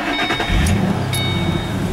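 Ford Mustang GT with a 4.6 liter 3-valve modular V8, 2007 model, cranking and catching, then settling into a steady, loud, deep idle rumble.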